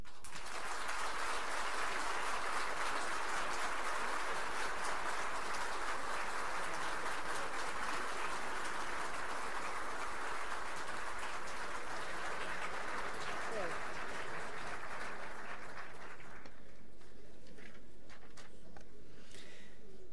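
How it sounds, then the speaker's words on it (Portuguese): A long burst of loud, steady audience applause fills a swearing-in ceremony hall for a new Prosecutor-General of the Republic in Brazil, staying dense for about sixteen seconds before thinning out into scattered claps and quiet room noise. "peço a todos que deem mais um caloroso aplauso à nova Procuradora-Geral da República"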